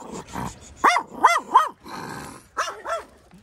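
Puppies let out several short, high yips and barks in quick bursts, mixed with a low growl, close by, at a family campsite in Korea.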